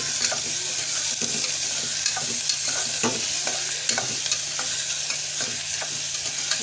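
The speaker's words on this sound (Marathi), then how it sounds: "कांदा घातलेला आहे मस्त तेलावरती परतून घ्यायचं आहे" Onion fries in oil with a constant close sizzle, punctuated by regular stirring strokes of a spoon in the pan.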